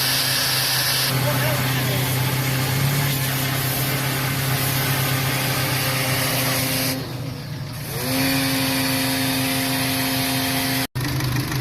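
Steady hissing spray of water washes dust off a Suzuki Vitara's radiator beside its idling engine, pausing briefly midway before resuming, close and loud.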